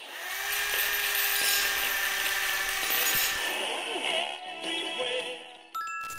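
Power drill whining steadily as a neighbour renovates an apartment, loud and continuous with tonal buzzing, easing off toward the end before a brief metallic clatter.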